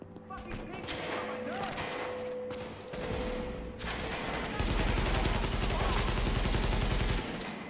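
Turret gunfire in the video game Tom Clancy's The Division, sounding as dense overlapping bursts that swell into a sustained rapid automatic barrage in the later seconds, with other game noise and speech mixed in.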